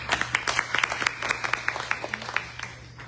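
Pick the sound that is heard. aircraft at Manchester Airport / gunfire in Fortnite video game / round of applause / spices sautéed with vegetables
round of applause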